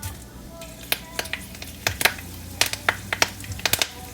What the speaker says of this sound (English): So after sauteing a little bit, we're going to add in our curry leaves.